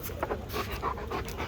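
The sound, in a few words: dog panting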